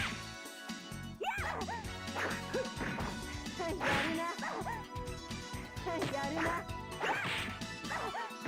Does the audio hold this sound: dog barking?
yes